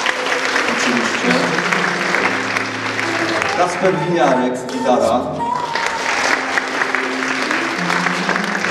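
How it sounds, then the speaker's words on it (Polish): Concert audience applauds during band introductions, a steady bed of clapping and crowd noise with a voice announcing over it midway and some music tones underneath. "Wielkie brawa, oczywiście."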